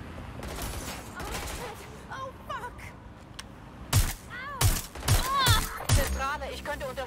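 Gunfire in the video game Watch Dogs: Legion, several sharp shots in quick succession over game sound effects, with voices talking intermittently.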